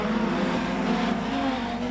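Production sedan race cars pull away from the start of a heat at Hamilton Speedway, a dense, steady engine roar held at a constant loud level with a droning low tone.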